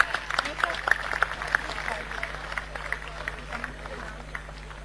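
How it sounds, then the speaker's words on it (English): Applause breaks out in a crowded convocation hall as a graduate is called up, a dense patter of many hands that peaks early and then softens, with a steady hum beneath. "A huge round of applause, please"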